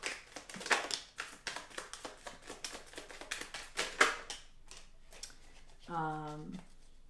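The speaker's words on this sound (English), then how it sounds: "Let's pull some self-care cards." Tarot self-care cards are shuffled and pulled, giving a string of soft, close taps and flicks, with a brief voice near the end.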